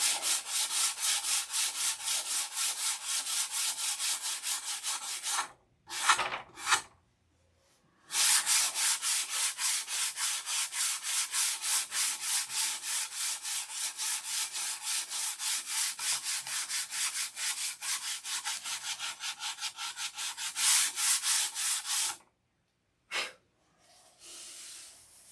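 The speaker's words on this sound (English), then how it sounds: "I enjoy sanding." Steady rasping strokes of sandpaper on wood, close and loud, with brief pauses and a longer gap partway through before the rubbing resumes.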